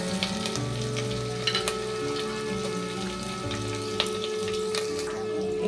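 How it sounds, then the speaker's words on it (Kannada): Chopped onions sizzle and fry steadily in a pan with cumin and curry leaves for a sprouted green gram sambar, a continuous close crackle with a few brief clinks, no talk. "ಇವಾಗೆಲ್ಲ ಈರುಳ್ಳಿ ಚೆನ್ನಾಗಿ ಫ್ರೈ ಆಗೈತ್ರಿ"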